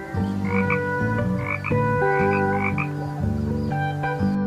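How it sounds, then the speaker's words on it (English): A toad's croaking sounds as continuous repeated throaty calls with a pulsing rhythm, close and loud from start to finish, with no talking. "Toad."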